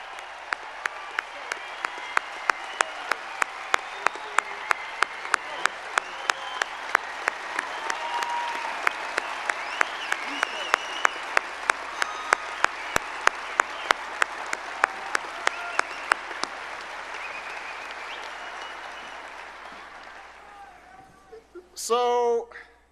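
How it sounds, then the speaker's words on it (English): A large outdoor crowd at a political speech on the shore of Lake Tahoe claps steadily for about twenty seconds, dense and sustained, then fades as a voice briefly speaks at the end. "Give him a big round of applause."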